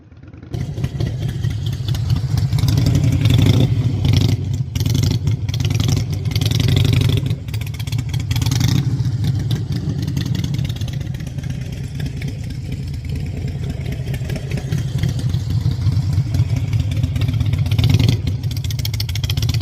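A motorcycle rolls slowly through low-speed practice drills on a DMV lot, its engine burbling and idling near the listener with slight rises and dips in revs, along with occasional wind buffeting.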